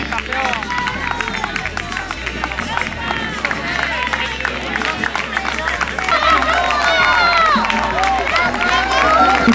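Crowd at an outdoor cross-country race of regional school games, with steady applause, cheering and babble growing louder for the finishers as an announcer speaks over a PA.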